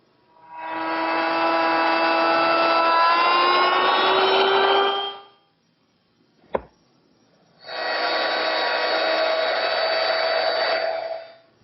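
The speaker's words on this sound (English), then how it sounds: "To remove the rest of the area of the inlay, I'm going to start with my router at one corner and move back and forth" A woodworking router cuts an inlay recess in wood for a toy chest, giving two sustained high-pitched whining bursts of about five seconds each, separated by a sharp click and a short pause.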